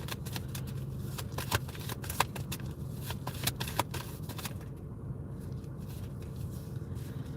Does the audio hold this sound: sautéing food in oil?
no